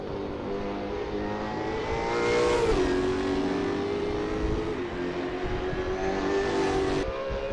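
Supercar engine at Bathurst, a ballasted car pushing hard, roaring loud and close throughout, with pitch sweeping up and down through gear changes and a brief surge mid-run.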